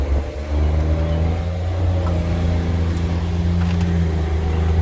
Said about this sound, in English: Never mind the truck.